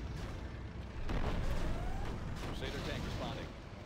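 Heavy armor cannon firing in the Command & Conquer Generals Zero Hour mission Operation Black Snow, with dull booming blasts over a dense game battle soundscape and a voice talking throughout.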